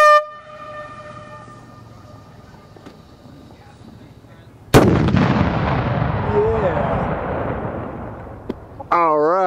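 A blacksmith's anvil launched outdoors with flash powder goes off in one sudden, very loud blast that rings and rumbles as it decays for several seconds. A horn sounds after the blast, and voices are heard before it.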